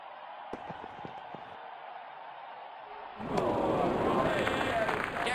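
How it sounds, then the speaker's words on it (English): Crowd cheering in the Real Cricket 20 video game swells suddenly into a loud, sustained roar after a few seconds of quieter background ambience. "Crowd is enjoying every bit of this"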